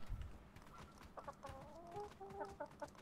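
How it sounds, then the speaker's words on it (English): Chicken clucking in the video game Atlas, a series of short soft clucks building into a quick run of chirpy notes, faint and fairly close with no talk. "Hey, chicken."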